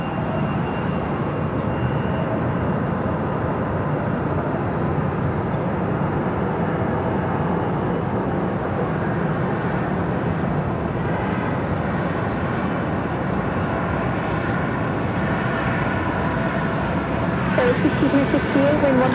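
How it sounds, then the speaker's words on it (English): A Legion Air Airbus A320 airliner at Phoenix airport, producing a continuous loud engine roar throughout, with a voice talking over it. "an A320 at Legion Air flight 3683 heading down to 7 left"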